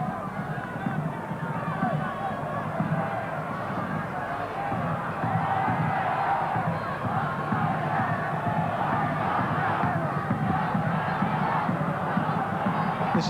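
Large football crowd at a 1981 World Youth Championship match between Australia and Argentina roars and cheers steadily from the stands, a dense, continuous wall of noise with a commentator's voice running over it.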